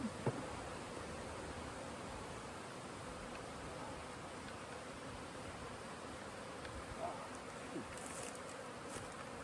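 Honeybees being moved into a new hive fill the air with a steady, dense buzzing swarm drone, close and continuous, with faint rustling and small knocks now and then.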